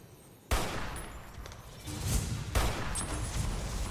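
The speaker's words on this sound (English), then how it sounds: "Oh shit, he's got an anti-material rifle." Anti-materiel rifle fire in Fallout New Vegas, two heavy booming shots about two seconds apart, each cracking sharply out of near quiet and leaving a loud, rumbling gunfire din between them.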